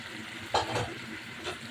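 A close, steady sizzle from sour yogurt being sautéed in a hot pan, with a brief louder stir-and-scrape burst near the middle and a softer one toward the end.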